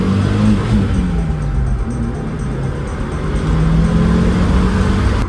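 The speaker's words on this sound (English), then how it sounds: "After doing that pull, now this car is actually like misfiring like pretty bad." Video game car engine revving steadily, with a rough, misfiring note after a hard pull; loud and continuous with slight pitch swells, no talk.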